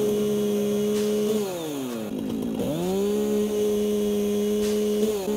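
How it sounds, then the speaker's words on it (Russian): A chainsaw cuts bushes in the video game Satisfactory, its engine buzzing in a loud, steady drone. The pitch bogs down and swoops back up twice as it bites through the growth, with no talking. "Значит, достаем теперь нашу бензопилу."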